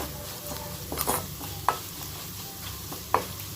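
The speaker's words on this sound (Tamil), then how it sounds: "இப்போ பூண்டு நல்லா வதங்குது" Garlic sautéing in a pan for a toor dal dosa batter, a soft steady sizzle with a few sharp scrapes and clinks of a spoon stirring against the pan, close and fairly quiet.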